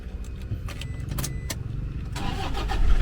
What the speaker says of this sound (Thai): เดี๋ยวสตาร์ทแล้วก็ฟังเสียงเครื่องยนต์กันนะครับ